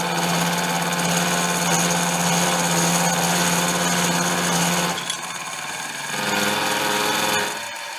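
A milling machine cuts metal held in a vise, a loud steady grinding whir with a low hum that drops off abruptly midway, then a quieter spindle sound briefly rises again.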